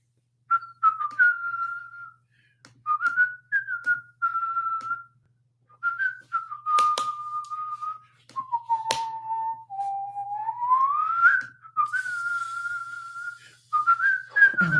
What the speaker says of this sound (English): please stop with that whistling. It's really ear piercing.